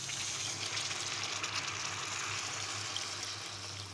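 Water goes into hot oil in a pan while egg curry cooks, giving a loud, continuous sizzling hiss that stays fairly even for a few seconds with no talking.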